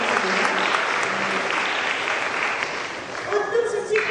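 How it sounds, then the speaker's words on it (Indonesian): A gathering of children and officials claps in steady, dense applause at a reception with the deputy governor, and brief voices are heard beneath it toward the end. "Tepuk tangan untuk Suci."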